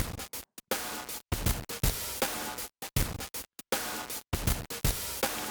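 Drum loop pushed through the Crunchy Taco curve in iZotope Trash 2, heavily saturated and harsh, with hits smeared into dense, buzzing blocks of distortion in a choppy repeating rhythm, loud with no voices.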